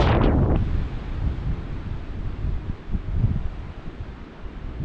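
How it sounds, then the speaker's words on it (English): Strong wind buffets the microphone outdoors at a drained 85-year-old lake, a steady low roar with heavy gusts, loudest at the start, continuing without speech. "Hopefully y'all can hear me over the wind too."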